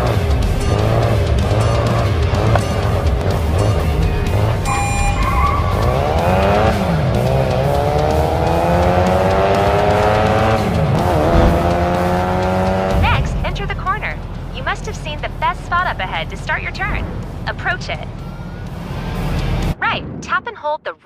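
A race car in the mobile game Racing Master, its engine revving and shifting loudly with rising and falling pitch, then tires squealing and skidding through a corner.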